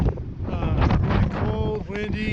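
Cold wind rushes past near the summit of Mt. McLoughlin, a loud rumbling buffet on the microphone, with a person talking over it.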